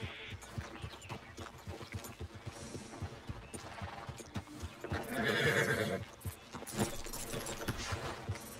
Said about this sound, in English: My horse went inside.